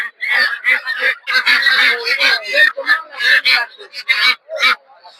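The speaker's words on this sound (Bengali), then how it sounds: "হাঁস দেখতে পাচ্ছেন, বেলজিয়াম হাঁস।" Belgian ducks at a rural poultry market in Narsingdi honk loudly and continuously in overlapping bursts, a dense flock chorus with short gaps between calls.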